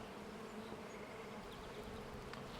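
Honey bees buzz at an open backyard hive in a soft, continuous drone, with individual insects briefly passing closer now and then.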